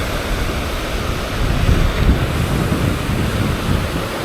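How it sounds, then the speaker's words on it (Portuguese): Ocean surf and wind at Praia dos Ingleses beach in Florianópolis in summer, a steady wash of breaking waves with gusty wind rumble on the microphone that swells briefly around the middle, no voices. "Um pouquinho mais de onda."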